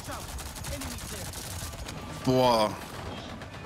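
Aircraft cannons on an Osprey-like flying gunship fire in Avatar: Frontiers of Pandora, a loud burst of rapid shots lasting under half a second over steady game background noise, with a brief exclamation from a man.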